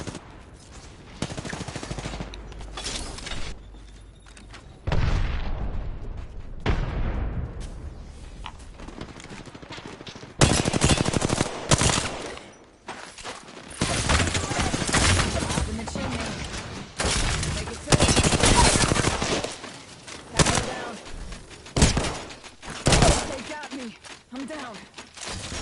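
Automatic gunfire and single shots crack loudly in the PS5 game Apex Legends, with repeated bursts over the full stretch and a brief lull before a heavy barrage, under intermittent team voice chat.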